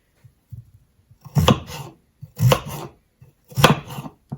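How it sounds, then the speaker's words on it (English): A knife chops through a potato on a cutting board, three clusters of quick, close thuds with brief quiet gaps between them. "Just chopping up my last potato here."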